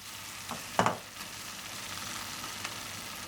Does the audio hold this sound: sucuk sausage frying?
yes